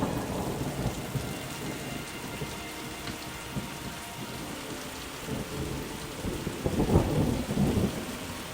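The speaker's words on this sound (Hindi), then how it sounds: "फिर अचानक बादल गरजने लगते हैं और थोड़ी देर बाद बारिश होने लग जाती है।" Steady rain pours throughout while deep thunder rumbles roll in, swelling loudest near the end.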